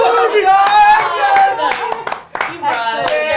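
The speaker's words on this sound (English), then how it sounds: "Full table clap." Players around a tabletop game table break into a round of hand clapping, bursts of claps mixed with loud overlapping talk and laughter.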